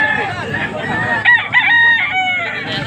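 Rooster crowing at a tiangge market in Angeles, Pampanga, a close, loud crow rising and breaking into a long wavering call over a bed of crowd murmur and background voices.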